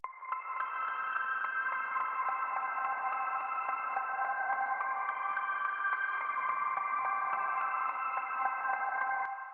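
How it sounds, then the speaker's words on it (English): An airy synth arpeggio shimmers in a steady, sustained wash of high, bright tones within an 80s-style pop production. The level stays even and continuous with no voices. "I've then got this really airy arpeggio going on,"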